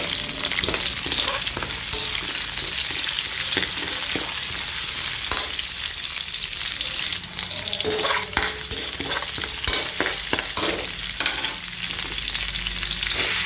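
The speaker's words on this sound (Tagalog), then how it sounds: "gigisa ko na yung bawang. Sunod ko na ang sibuyas." Garlic and onion sauté in hot cooking oil in a pan, giving a loud, continuous sizzle with scraping stirring strokes that come through more clearly in the second half. No one speaks.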